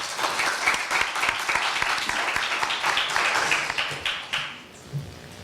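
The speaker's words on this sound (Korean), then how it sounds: "윤형석 군 큰 박수로 맞이해 주시기 바랍니다" An audience at a university speaking contest applauds to welcome the final speaker, brisk clapping that stays lively for several seconds and then fades out quickly.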